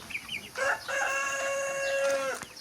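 A rooster on a Turkish chicken farm crows once, a loud, close, drawn-out call with a short rising start, heard alone without talk.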